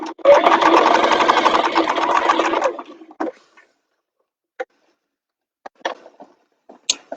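A sewing machine stitches through a machine bag in one steady, fast mechanical run of about three seconds, followed by quiet scattered clicks and fabric handling.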